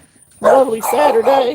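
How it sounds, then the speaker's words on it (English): Dogs bark loudly and close by, several yapping barks in quick succession, over someone speaking. "Excuse the dogs in the background."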